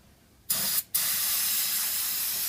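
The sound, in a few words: brake parts cleaner spraying into a transmission pan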